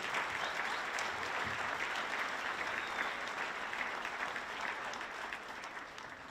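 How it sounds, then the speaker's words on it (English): A school audience at an elementary band concert gives another round of applause, many hands clapping in a steady continuous roar that eases slightly toward the end, heard from within the hall. "Why don't you give them another round of applause?"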